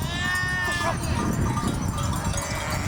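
Sheep bleat amid a busy transhumance parade through Lunel's streets, with four sheepdogs guarding the ewes; the crowd murmurs and voices talk steadily throughout while the bleats rise over the noise.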